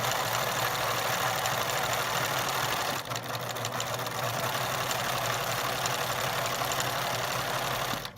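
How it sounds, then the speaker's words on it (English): A sewing machine runs steadily while stitching a quarter-inch quilt seam, giving a continuous, close mechanical drone with a brief dip near the middle and no talking. "we're going to put on the machine, we're going to sew 1/4 inch, and we're going to go all the way down"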